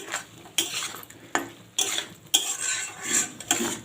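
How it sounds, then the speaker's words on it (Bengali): A spatula stirs fried potatoes and jackfruit through spiced masala in a metal pan, making repeated loud scraping strokes against the pan with faint sizzling between them. "এবার ইঁচড় আলুটা দিয়েও আমি খুব ভালো করে কষিয়ে নেবো"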